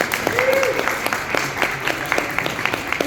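An audience at a conversation event with a published author claps, a steady spatter of applause close by that keeps going throughout, with a brief voice sound early on.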